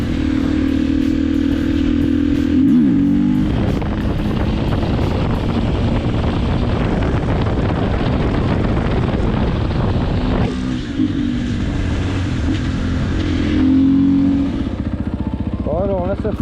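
A Husqvarna 501 motorcycle ridden through town, its engine loud and close throughout, revving up and down with shifting pitch, changing through gears and rising and falling in intensity, with a rider's voice at times over the engine.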